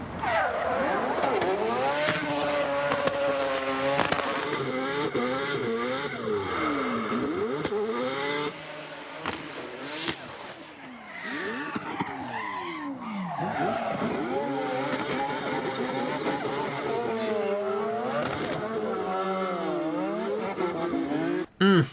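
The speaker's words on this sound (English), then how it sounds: "I could listen to that quad rotor all day." A high-revving quad-rotor rotary race car engine screams through repeated upshifts and downshifts, loud and close, with a rough, buzzy multi-rotor snarl throughout.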